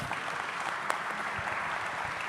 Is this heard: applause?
yes